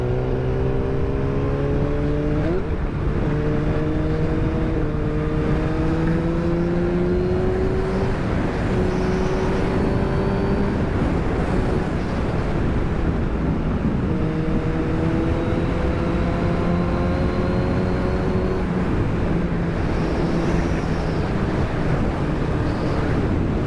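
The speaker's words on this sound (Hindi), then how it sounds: "भाई यार क्या स्मूथ चल रही है यार bike, this is way to smooth" A Suzuki GSX-R 1000R sport bike, rated around 200 bhp, is ridden at speed with heavy wind rush. Its engine note climbs through the gears in repeated rising sweeps, each cut short by a shift and followed by a lower restart.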